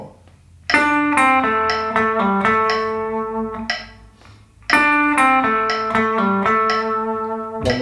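Guitar plays bar 33 of a song, clean picked notes with a pull-off, as two similar phrases of about four seconds each, with nothing else heard.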